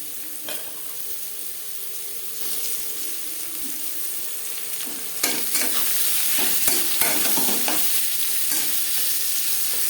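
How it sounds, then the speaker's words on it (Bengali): Cumin seeds, a bay leaf and broken dried chillies fry in a little oil for bottle gourd and rohu fish curry, giving a steady close sizzle that grows louder midway, with scraping stirs and a few sharp spits. "দশ পনেরো সেকেন্ড ভেজে নেওয়ার পর দিয়ে দেব লাউ"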